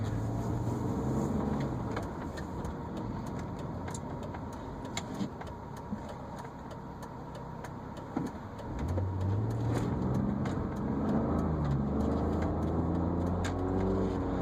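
A 2003 BMW 325xi Wagon with a 2.5-liter inline-six engine hums steadily from inside the cabin while driving, with the engine note rising after a brief dip as it accelerates, alongside faint rattles and ticks.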